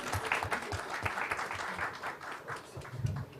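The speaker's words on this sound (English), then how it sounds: "Big round of applause, ladies and gentlemen." An audience claps at a CSIR science lab program event in Mumbai, with moderate applause of scattered, uneven hand claps lasting a few seconds.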